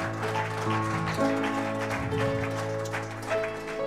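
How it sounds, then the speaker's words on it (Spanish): A church congregation applauds at a Sunday service, steady broad clapping that continues under sustained organ or keyboard chords from the praise music. "Un fuerte aplauso al Señor en esta mañana"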